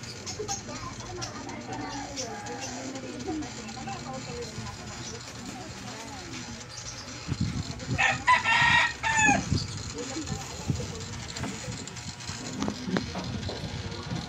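A bantam rooster crows once, loud and fairly close, partway through, while people talk in the background.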